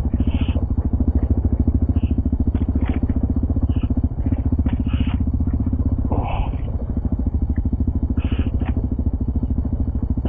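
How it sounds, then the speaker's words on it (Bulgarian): Motorcycle ridden through a mountain pass, its engine a loud, steady throbbing drone throughout, with voices talking over it and occasional clatter and knocks. "Ще се разпадне мотора"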